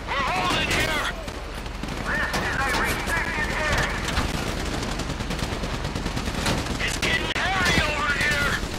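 Rapid bursts of gunfire in Grand Theft Auto 5 during a bank-heist shootout, loud and continuous with volleys overlapping, under frequent shouted talk from players.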